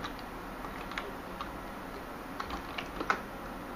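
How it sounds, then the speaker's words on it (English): Sparse, faint keyboard clicks from typing on a computer keyboard while installing Minix 1.7.5 in VirtualBox, irregular single taps with a small cluster near the end over a quiet hum. "my typing is awful"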